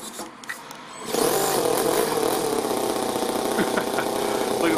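Toyan FS-L200 model nitro engine in an RC Ford F450 truck starting up after a second of quiet, then running at a steady buzzing idle, close and loud, with faint sputters through it.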